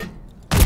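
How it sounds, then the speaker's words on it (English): A grenade blows up in the Modern Warfare 3 game, a sudden loud blast bursting in after a quiet stretch of low background rumble and ringing on to the end. "Oh, that was a grenade."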